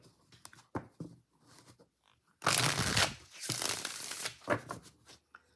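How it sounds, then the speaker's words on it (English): Tarot cards being shuffled by hand, a few short riffles followed by a long, loud burst of fluttering card noise, close up. "Let's give this a little bit more of a shuffle"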